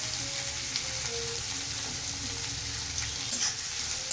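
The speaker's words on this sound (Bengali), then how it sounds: "একটু পেঁয়াজটা হালকা ভেজে নেব" Onion frying in oil for a mutton trotters and mutton curry, a steady close sizzle with a faint watery crackle running evenly throughout, no talking.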